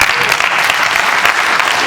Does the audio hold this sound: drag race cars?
no